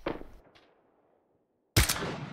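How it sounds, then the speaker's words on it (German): Gunfire in the battle royale game PUBG: a sharp crack opens, a fainter shot follows, then quiet before a louder, heavier report at the end, with no talk over it. "Der Schuss ging da vorbei."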